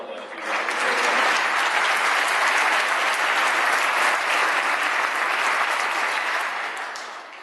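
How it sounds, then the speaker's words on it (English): Sustained audience applause at a county band music event, dense clapping rising quickly, holding steady and loud for several seconds, then tapering off near the end. "you can applaud that if you want"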